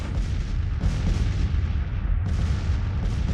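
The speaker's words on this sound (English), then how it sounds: "We've got nice range on those 24-pounder howitzers." Massed Civil War-era 24-pounder howitzer artillery fire in the strategy game Grand Tactician, a continuous loud rumble of overlapping booms with a couple of sharper swells, no voices.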